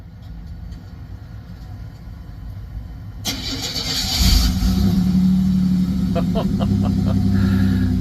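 A car engine cranks and catches with a sharp burst, then settles into a loud, steady rumble with several quick revs toward the end, heard up close with no talking.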